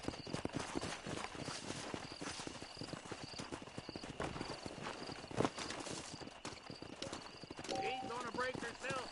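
A wild horse in the Western video game Red Dead Redemption clip-clops in steady hoofbeats and lets out a whinny near the end, over game music and ambience while voices talk throughout.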